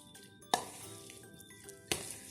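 Russian salad is mixed in a bowl, quiet soft stirring punctuated by two distinct clinks of a spoon against the bowl's rim.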